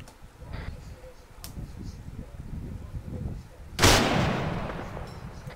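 Gunfire in the military shooter ArmA 3: a single sharp, loud shot near the four-second mark rings out with a decaying tail, with fainter distant pops earlier over low background rumble and voice chatter.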